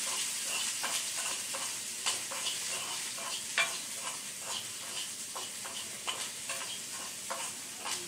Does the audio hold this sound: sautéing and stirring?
yes